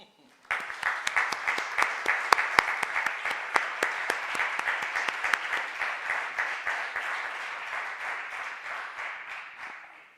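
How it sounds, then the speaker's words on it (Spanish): A seated audience applauds an arriving guest speaker at a formal talk at the Real Casino de Madrid, brisk dense clapping that starts abruptly, holds steady for several seconds, then slowly thins and fades toward the end. "Recibámosle con un aplauso."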